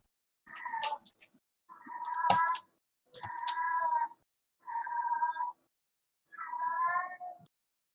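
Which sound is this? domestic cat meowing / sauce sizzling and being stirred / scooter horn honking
domestic cat meowing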